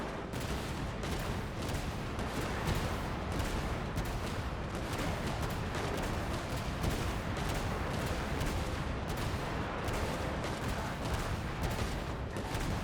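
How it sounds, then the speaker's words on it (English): Machine gun fire in a video game, a long, loud, steady stream of rapid shots and booms with no pauses and no voices. "I'm trying to machine gun fire the best way I can."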